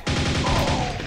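Nailgun in the video game Quake, fired in a rapid burst of close, evenly spaced metallic thuds lasting about a second.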